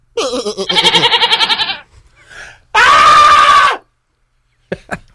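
A person imitates a goat's bleat with a loud, wavering, nasal cry, then gives a second strained bleat after a short pause.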